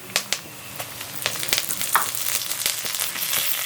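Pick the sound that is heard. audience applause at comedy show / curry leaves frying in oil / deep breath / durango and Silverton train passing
curry leaves frying in oil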